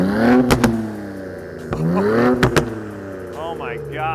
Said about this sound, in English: Quality of the exhaust is really nice.